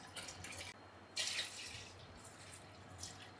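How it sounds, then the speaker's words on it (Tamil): Thick milk, about a litre, poured into a pot on a home stove while payasam is made, giving a light splashing, dripping trickle with a louder pour burst near the middle; no talking. "1 லிட்டர் பால் சேர்க்குறேன்."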